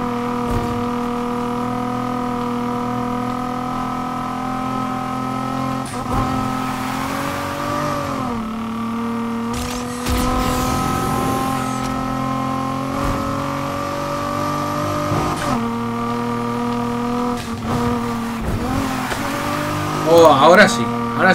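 A car engine revs hard in Need for Speed Heat, climbing and dropping in pitch through gear changes as the car drifts, with tire squeal and a louder burst near the end, while someone talks over it.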